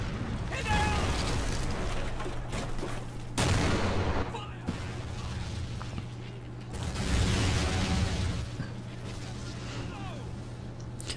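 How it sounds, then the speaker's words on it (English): Artillery fire in a World War I battle game: repeated heavy booms and rumbling barrages rolling in bursts over a constant low engine-like drone, with game sounds and a voice talking over it. "I just use some artillery"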